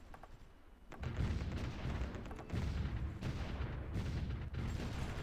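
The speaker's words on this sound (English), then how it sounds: "That's going to cause some massive explosions here in a second." Heavy artillery explosions in the World War I strategy game Supreme Ruler: The Great War, a series of deep rumbling booms and blasts overlapping in quick succession, loud and continuous after a brief quiet start.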